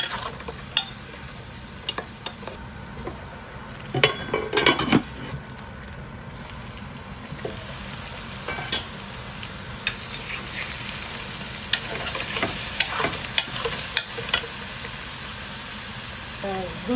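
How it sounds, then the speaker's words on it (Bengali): Ginger and garlic fry in a pan with softened onion, giving a low sizzle broken by scraping and clinking as they are stirred, fairly close and quiet. "এখন আমি দিয়ে দেবো আদা রসুন নাড়াচাড়া করবো"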